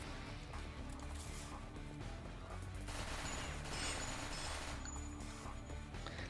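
Dense, continuous gunfire from a Fletch SMG in the video game The Citadel, a loud sustained burst of rapid shots filling the whole stretch with no voices.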